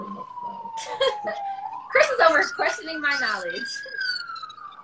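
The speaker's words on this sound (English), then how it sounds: "sorry for the siren going by" A siren of a passing vehicle in New York City wails steadily in the background, slowly rising and falling in pitch, while people talk over it nearby.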